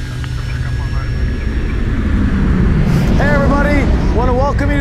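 An airplane rolling down a runway for takeoff at the 2022 Turbo Classic, a steady loud engine roar building throughout, with radio chatter and voices heard over it toward the end.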